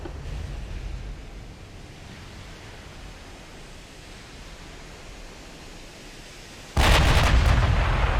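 Battleship gunfire in the naval game Ultimate Admiral Dreadnoughts, a low rumbling wash of distant guns that ends in a sudden loud blast near the end, without voices.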